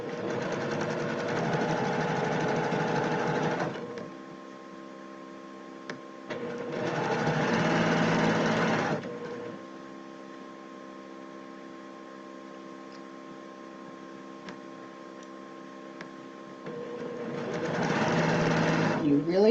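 A sewing machine stitches a shirt placket seam in loud steady runs separated by pauses, the motor whirring close up while a voice talks through the quieter gaps.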